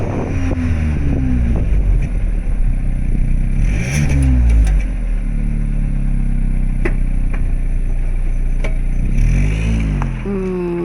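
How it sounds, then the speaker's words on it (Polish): A Skoda Fabia 130 Sport engine (177 hp) idles loudly then revs up twice in sharp rising bursts, the exhaust note swelling and falling back to a steady rumble. "sprawdźmy jeszcze, czy cokolwiek zmieniło się w kwestii dźwięku wydechu"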